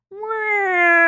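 A cat gives one drawn-out, rising meow that swells and holds steady, close and clear with nothing else audible.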